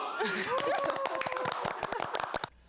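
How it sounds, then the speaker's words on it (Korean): A group of people at a Korean public diplomacy talk event with foreign residents claps together in a quick, steady burst of many hands, with a faint tonal voice or music running underneath before it stops abruptly. "자, 다 같이 박수!"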